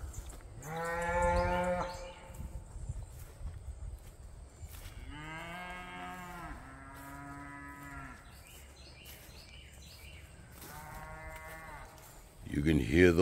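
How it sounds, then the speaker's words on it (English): Black Angus bulls and cows bellow and moo on an open pasture in several long, loud calls, one after another, with deep harmonic tones and a quieter outdoor background between them. "You can hear those bulls."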